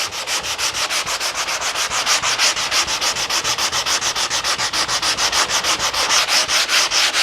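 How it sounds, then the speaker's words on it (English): Rhythmic back-and-forth rasping of sanding wood by hand with a soft sanding sponge, fast, even strokes repeating steadily throughout, close and loud with no voices. "I started sanding."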